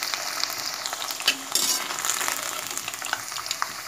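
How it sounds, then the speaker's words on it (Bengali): Potatoes frying in hot oil in a pan give a steady, close sizzle with brief stirring scrapes and pops, no voices. "তো আমি কিন্তু তাও কিন্তু লালচে করে ভেজে নিচ্ছি"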